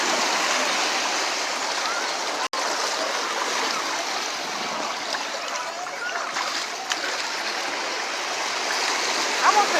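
Water running and splashing steadily while someone rinses off at a beach, a continuous close rushing wash that holds the whole time, with a voice faintly present under it.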